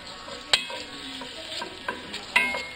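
Bacon frying in a cooker, a soft steady sizzle with a few sharp ticks and small pops scattered through it; no voices.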